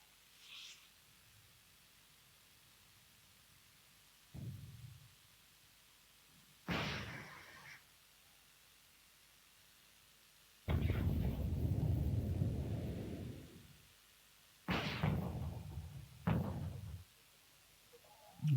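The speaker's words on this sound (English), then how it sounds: "They are using mortars to smoke us." Mortar rounds firing smoke shells in the Wargame Red Dragon battle game, Korean War scenario near Seoul: several heavy, booming thumps at irregular intervals, the longest a sustained roaring burst, with quiet gaps between.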